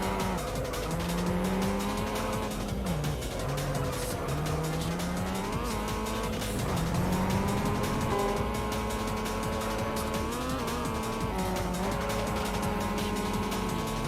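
Racing cars in the video game Juiced roar in a continuous, loud engine whine that rises and falls with gear shifts. Tire squeals and skids run throughout, with no talking.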